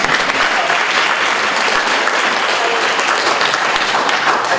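Audience applause at a political event about Social Security and Medicare, steady dense clapping from a crowd that holds at an even loudness throughout with no speech.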